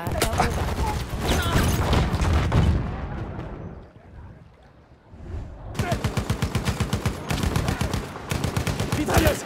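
Machine gun fire in the World War I shooter Battlefield 1: dense, loud bursts of rapid gunfire, a brief lull in the middle, then a sharp rhythmic stream of shots resuming near at hand.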